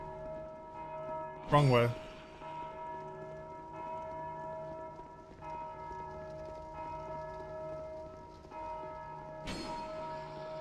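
Deep church bells ring in a sustained, overlapping drone in Dark Souls 2, tolling repeatedly through the scene, with sharp sounds breaking in twice and a voice speaking briefly over it.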